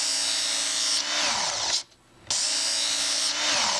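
A handmade knife's bevel is ground on an 80 grit abrasive, making a loud, close, rough hiss. The grinding runs as two long, sustained passes with a brief quieter break between them.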